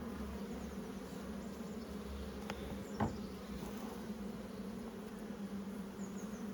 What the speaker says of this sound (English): Come on, bees. Out the way, my darlings.